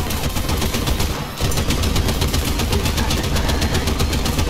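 Rapid sustained machine gun fire at a Panzer II tank in a World War II video game, loud and continuous over a rumbling engine, with a brief pause before the bursts resume.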